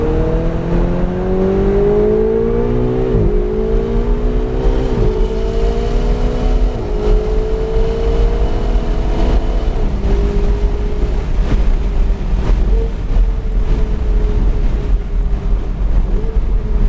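Ferrari 488 GTB lapping NCM Motorsports Park, the engine note climbing through repeated rising sweeps broken by sharp gear shifts, loud and close under heavy wind buffeting, with no voices.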